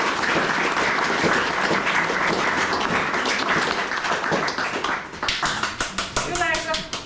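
A large lecture audience applauds at the close of a talk on the northern lights, dense clapping that breaks into scattered individual claps, with voices and cheering mixed in toward the end.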